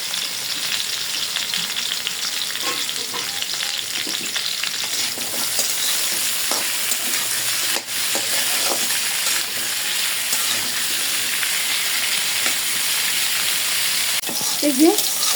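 Taro stolons (loti) frying in hot oil give a steady, dense sizzle that carries evenly throughout, with a few faint clinks near the end.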